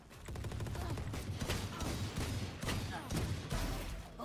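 Gunshots in the tactical shooter Valorant, a rapid string of sharp cracks within a busy game mix, moderately loud and close, with a few louder hits standing out over a low mechanical rumble.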